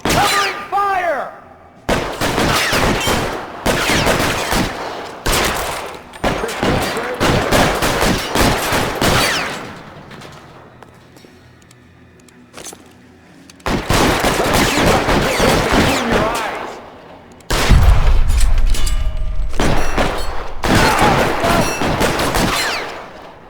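Gunfire exchange in the video game L.A. Noire, a traffic desk case: dense bursts of rapid automatic and single shots crackle loudly in several long volleys, with a quieter lull mid-way and shouted voices in between.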